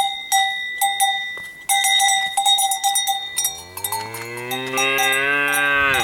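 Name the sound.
cows mooing, one sounding annoyed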